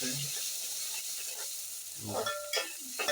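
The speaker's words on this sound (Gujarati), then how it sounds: "હવે નાખી દઈએ મસાલો ટમેટા ને મરચા ને એવું બધું નાખ્યું છે હવે આપણે આને હલાવવાનું છે" Tomato and chili masala sizzles and crackles in a hot pan while being stirred, with a soft scraping sound near the end.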